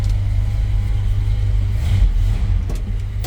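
A 1954 Dodge half-ton five-window pickup idles with a deep steady rumble, its V8-style engine breathing through a Holley four-barrel carburetor, with a brief blip of throttle lifting the note near the middle before settling back.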